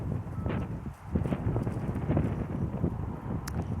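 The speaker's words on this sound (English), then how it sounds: "it's just some nice cool breeze" Outdoors, a cool breeze rumbles as steady low wind buffeting against the microphone, with gusty swells throughout the few seconds.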